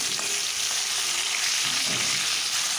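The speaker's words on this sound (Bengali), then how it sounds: "সরিষার তেলে মাছ, হলুদ, লবণ মাখিয়ে ভেজে নিচ্ছি।" Rohu fish rubbed with turmeric and salt fry in mustard oil, making a dense, steady and fairly loud hiss. Faint spatters and a low stirring scrape sound underneath, with no voices.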